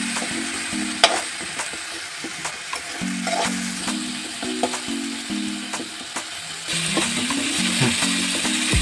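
Ginger-garlic paste masala for vada pav fries in a pan, a steady crackling sizzle broken by frequent clicks and scrapes of stirring, close by, with a melodic tune running underneath.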